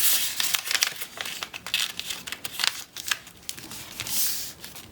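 Paper is folded over and tucked under while a paper corner bookmark is made, giving close, soft crinkling and rustling in irregular bursts with no talking.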